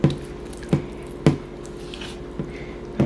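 Thick Ayurvedic conditioning mask mixture being stirred in a bowl, giving several soft, wet squishing strokes spaced about half a second apart, close and fairly quiet with no talking.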